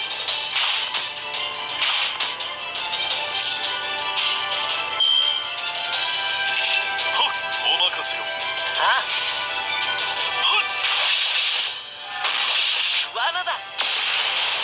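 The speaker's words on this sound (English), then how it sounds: "Lancelot's sword makes a weird sound" Sword attacks by Lancelot in the game Fate/Grand Order, a dense run of sharp whip-like swishes and metallic clashes layered over game music and effects, with brief flurries of impacts throughout.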